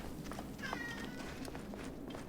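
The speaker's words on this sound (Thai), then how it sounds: "อ้าวแมวผมมาแล้วทุกคน" A cat meows once in the game Assassin's Creed Origins on PS4, a short tonal call heard over a steady ambient background of game sound.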